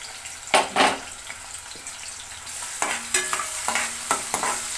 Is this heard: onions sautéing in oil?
yes